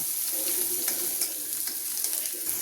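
Onion and garlic frying in oil in a pan, a steady, close, dense sizzle that holds evenly throughout with faint stirring crackles and no talking.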